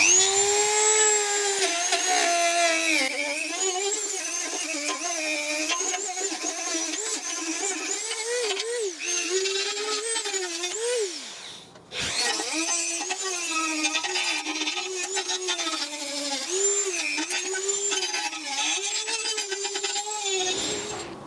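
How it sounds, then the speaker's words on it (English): A Dremel rotary tool grinds rust and flaky paint off a bracket on a Mini Cooper front subframe, a loud steady high-pitched whine that wavers with load, dips and briefly stops midway, then resumes, with no voices. "I'm just going to tap that with the Dremel tool."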